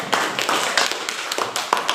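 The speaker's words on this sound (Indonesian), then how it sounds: "Oke, tepuk tangan untuk jawabannya." Classroom applause for a student's answer: a short burst of hand clapping with uneven, overlapping claps from a group, fairly close and steady for a couple of seconds, with no talking over it.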